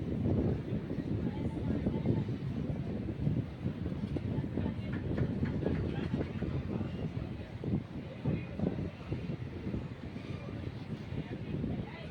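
A train at Vijayawada Junction railway station gives a steady, low rumble with a faint rhythmic clatter of wheels on rails. The sound runs without a break for about twelve seconds, with muffled background noise from the station.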